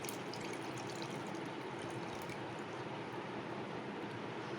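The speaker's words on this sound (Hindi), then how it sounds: "कॉकटेल का पानी मैंने डाल लिया" Liquid from canned fruit cocktail pouring into mayonnaise in a bowl for a Russian salad, a continuous soft watery trickle and splash lasting several seconds, with no talking.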